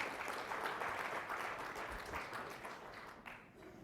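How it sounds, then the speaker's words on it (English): Steady, dense applause from a conference audience after a manufacturing panel discussion, a broad continuous wash of clapping that holds for several seconds and then thins slightly at the end. "One more round of applause for the whole panel"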